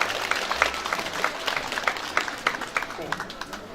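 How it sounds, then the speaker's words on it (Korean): Applause from an audience at a Korean volunteer festival award ceremony, a steady wash of clapping with some louder individual claps, mixed with background voices. "박수 부탁드립니다."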